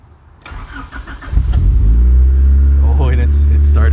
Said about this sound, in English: Oh, and it started right up.